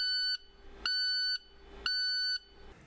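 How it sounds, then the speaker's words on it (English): A truck's DPF warning alarm on an International WorkStar, a loud electronic beep sounding in three even half-second pulses separated by short gaps, with a faint cab hum underneath. "If the DPF light is flashing with a beeping alarm"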